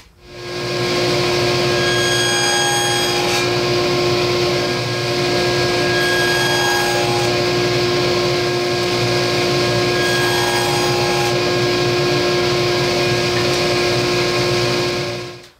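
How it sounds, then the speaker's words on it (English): A table saw or router cuts a dado groove 1 1/8 inch wide and 1/4 inch deep in wood for a phone charging station, a loud, steady high whine running close and unbroken throughout. "we're going to cut the dado, as I said, 1 1/8 wide, and it's going to be 1/4 inch deep"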